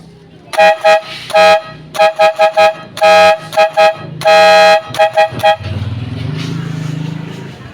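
A car horn wired through a horn relay blares in a rapid series of short and long honks, loud and close, followed by a low engine rumble.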